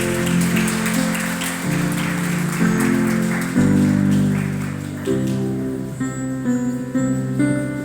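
A church congregation breaks into loud, sustained applause, dense clapping that fills the room while music plays beneath it.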